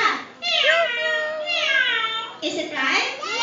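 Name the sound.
child imitating a cat's meow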